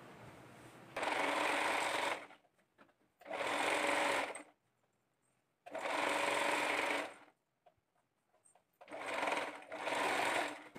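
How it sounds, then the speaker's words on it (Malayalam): A sewing machine stitches a folded sleeve in fabric, running in four bursts of about one to two seconds each with brief silent pauses between them. "ഒരു പ്രാവശ്യം കൂടി നമുക്കിവിടെ സ്റ്റിച്ച് ചെയ്തെടുക്കാം"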